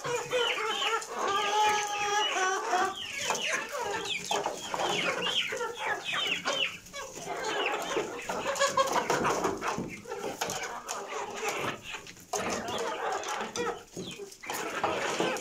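Village laying hens cluck and roosters crow continuously in a noisy coop, many birds calling over each other at close range.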